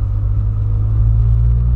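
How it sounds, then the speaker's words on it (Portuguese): A Volkswagen Polo on new tyres drives along, heard from inside the cabin as a steady, loud low rumble of road and engine noise with no talk. "tá super confortável dirigir agora"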